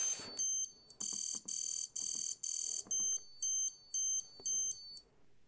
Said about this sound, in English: Bang, the alarm has been triggered over here too.